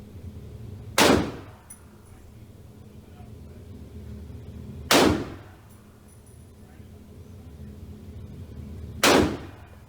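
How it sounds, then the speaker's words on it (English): Three loud single gunshots ring out at a Texas shooting range, spaced about four seconds apart, each a sharp blast with a short echo over a quiet outdoor background. "Guns are loud."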